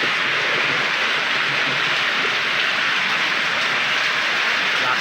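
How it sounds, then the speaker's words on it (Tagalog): Heavy rain pours down steadily with a dense, constant hiss and no letup, loud and close throughout with no voices. "Grabe, napakalakas ng ulan na to"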